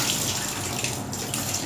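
Running tap water pours steadily into a sink while soaked almonds are rinsed, a close, continuous splashing wash with no speech.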